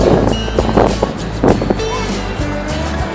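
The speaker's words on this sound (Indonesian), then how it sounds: "Ombaknya gede." Big ocean waves roll in at Santolo beach in South Garut, a steady rushing roar of surf mixed with gusty wind buffeting the microphone, with a few louder surges along the way.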